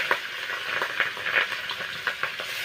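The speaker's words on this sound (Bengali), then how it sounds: "মা হচ্ছে মাছগুলো ভেজে নিচ্ছে" Thin fish fry in oil in a pan, with a continuous close hiss of sizzling broken by small crackling pops and occasional stirring taps.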